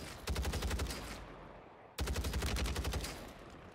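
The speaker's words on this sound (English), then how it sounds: "I'm getting sniped at." Gunfire aimed at the player in the video game Call of Duty Warzone comes as two loud, rapid bursts of shots, each fading into a short tail.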